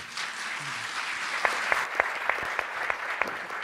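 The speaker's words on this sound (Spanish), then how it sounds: "les pedimos un gran aplauso para comenzar nuestro evento" An audience at the opening of an Ayurveda master class event applauds in a soft, steady wash, with a few sharper individual claps standing out at regular intervals.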